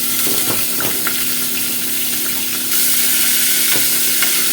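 Chicken gizzards sizzle steadily in a hot pan, a loud continuous frying hiss with occasional stirring clicks and a surge in sizzle partway through.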